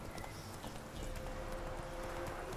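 Horse hooves clip-clop steadily while riding in The Witcher 3, a regular muffled beat under a continuous background of ambient game sound.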